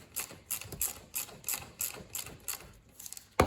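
A ratchet tightens a boot clamp on a VW swing axle, giving about eight quick, evenly spaced clicking bursts up close, then a short pause and a final click.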